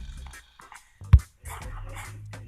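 Dog barking inside a Roblox video game, a short burst of one or two sharp barks standing out amid game music and sound effects.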